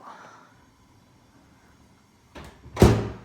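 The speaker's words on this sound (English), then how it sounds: "It's a very large door" A very large appliance door in a Big Bear Lake vacation property opens and closes with a quick sliding rush and then a firm thud, close and fairly loud after a quiet stretch.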